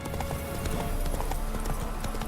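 Hooves of the horse in The Witcher 3: Wild Hunt clip-clop in a quick, steady galloping rhythm, close and moderately loud, with faint game ambience beneath.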